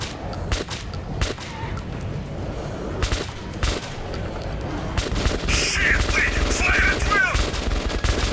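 Rapid gunfire crackles through a firefight in Metro 2033 Redux, with dense bursts of shots and sharp single cracks continuing steadily under a low, rumbling background throughout.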